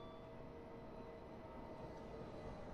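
A Southeastern passenger train on the South London network rolls past a station platform, a faint, steady low rumble of wheels and motors that holds evenly throughout.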